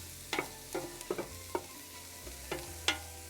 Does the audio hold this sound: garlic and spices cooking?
yes